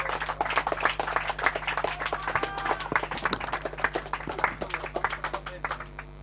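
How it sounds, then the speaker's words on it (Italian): An audience at a talk on the ZFS filesystem claps in a dense, lively burst of applause that carries steadily from start to finish, with voices mixed in. "Facciamo un applauso al Bala che ha avuto grandi operazioni."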